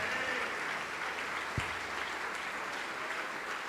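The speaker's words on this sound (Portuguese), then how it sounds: "Vamos aplaudir mais, igreja." Church congregation clapping steadily throughout, a dense even wash of applause from a crowd filling the room, with one sharp low thump partway through.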